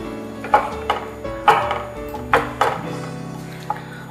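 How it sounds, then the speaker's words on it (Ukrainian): A knife chops pumpkin on a board: about nine sharp, fairly loud cuts at an uneven, unhurried pace, each a crisp knock with a short ring, alone over quiet kitchen background. "Тим часом наріжемо гарбуза."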